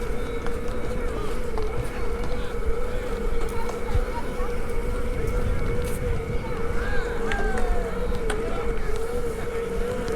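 An Exway Wave electric skateboard fitted with 105D Cloudwheels rides off-road across grass, giving a steady motor whine with continuous rough rolling rumble and wind noise, close and unbroken throughout.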